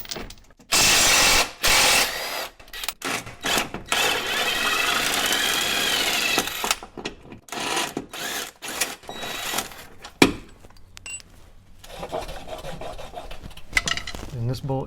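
Power tool, likely an impact or drill, removing a 15 Torx rear lower engine mount bolt on a 2013-16 Dodge Dart, loud close whirring and grinding bursts that start and stop, with clattering between runs.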